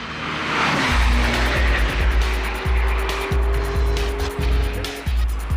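Lamborghini Diablo VT Roadster engine roaring loudly as the car accelerates, with repeated rising revs broken by sharp gear changes and steady road noise.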